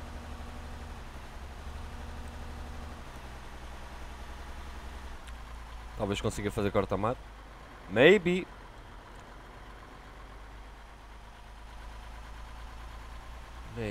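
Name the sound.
vehicle engine running in video game Arma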